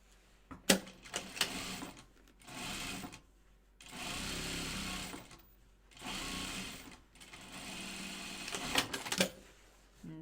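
A sewing machine top stitches a Chicken Boots Wallaby bag in several short bursts of rapid needle chatter, separated by pauses filled with handling clicks and rustles of fabric, recorded close and fairly quiet.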